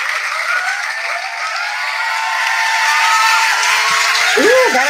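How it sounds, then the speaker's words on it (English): Applause and cheering ring out after a spoken word poetry reading, a broad steady crowd noise that swells slightly toward the end, with voices rising through it. "that applause check is nice"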